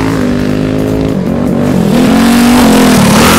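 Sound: minibike engine running

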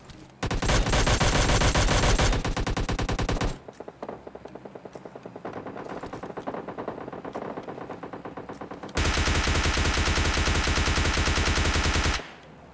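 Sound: gunfire in PUBG Mobile Lite video game

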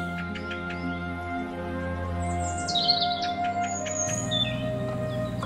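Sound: cattle egrets calling

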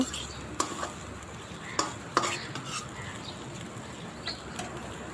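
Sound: stirring fried potatoes into spice masala in a pan

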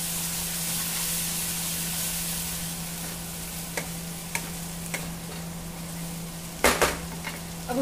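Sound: stirring tomato paste mixture in a pan

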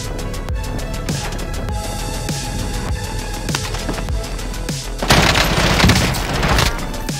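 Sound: gunfire in the video game Warzone

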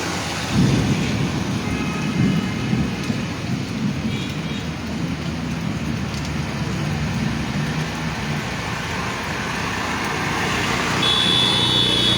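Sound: rain and thunder during a Kalbaishakhi storm

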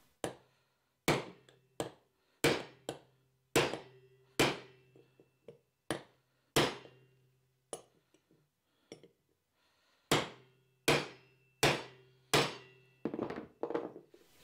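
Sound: hammering a chisel to bend copper in a block

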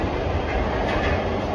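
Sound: metro train running

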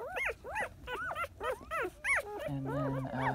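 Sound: puppy whimpering

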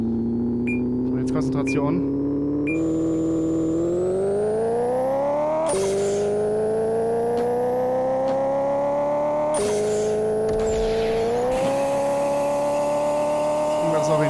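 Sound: car engine in second gear, Pixel Car Racer video game

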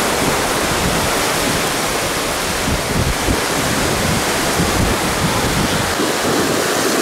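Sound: ocean waves on a beach

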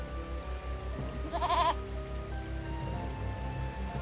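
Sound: goat bleating in the video game Eternal Sonata

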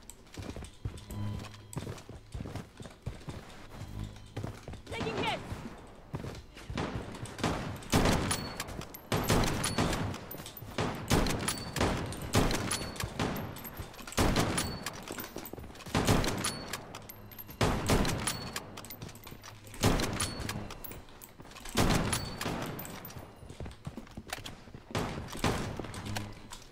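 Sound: gunfire in the video game Bloodstrike

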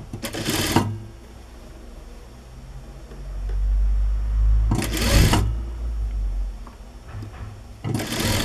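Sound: sewing machine stitching a seam on a dress

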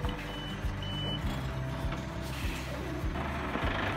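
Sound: Scania 8x8 G490 truck hauling mangoes

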